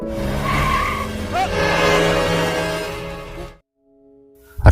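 A car skids and nearly hits a person in an Indian film scene: a loud tire screech and engine roar sweep through for about three and a half seconds, cut to near silence, then a sharp burst at the end.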